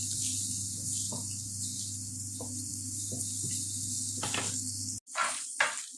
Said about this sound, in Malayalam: ശേഷം ഉണക്കമുന്തിരിയും ഇട്ട് ഇളക്കി മൂപ്പിക്കുക.